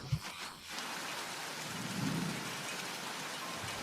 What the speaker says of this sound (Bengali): বৃষ্টিটা কি এখনই নামতে হতো?